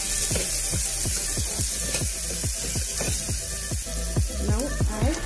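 Cluster beans sauté in a pan, giving a continuous dense sizzle close up with a regular run of scraping stirs, fairly loud, no speech.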